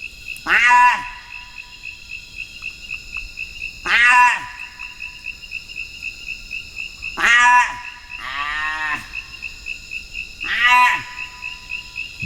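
In a Baka forest, hunters imitate the call of the blue duiker to lure it closer, giving five short, sharp nasal calls that fall in pitch. The calls come every few seconds over a steady, high insect drone.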